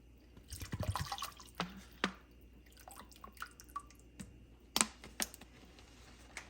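Water poured into a cooking pan of beef goulash, heard as a cluster of close splashes and drips followed by scattered lighter drops and clinks, with no talking.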